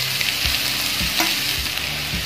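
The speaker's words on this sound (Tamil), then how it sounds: "இந்த வெங்காயத்தை லோ flameலயே வச்சிட்டு நல்லா வதக்கி எடுத்துக்கலாங்க" Chopped onions sauté in groundnut oil over a low flame, giving a close, constant sizzle with soft scraping strokes about every half second.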